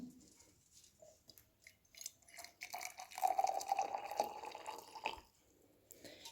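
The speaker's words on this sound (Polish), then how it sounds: "Kiedy do słoiczka wlejemy gorącą z czajnika wodę" Hot water from a kettle poured into a small jar gives a soft, close splashing and gurgling fill, rising for about two seconds in the middle and then stopping.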